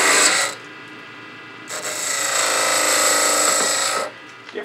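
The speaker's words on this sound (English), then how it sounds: "we're probably going to use a skew to take that facing cut off" A skew chisel taking a facing cut on a pepper mill blank spinning on a wood lathe: a short rasp, a pause, then a longer steady shaving hiss that stops abruptly.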